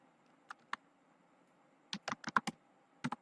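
Computer keyboard keys clicking as C++ code is typed, a few sparse presses and then a quick cluster of keystrokes, close and crisp in a quiet room.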